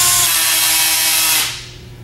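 Cordless drill clutch slipping as the bit meets resistance in wood, a loud rapid ratcheting buzz that runs steadily then winds down and fades.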